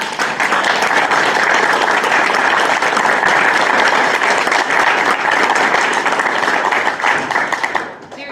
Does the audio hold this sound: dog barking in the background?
no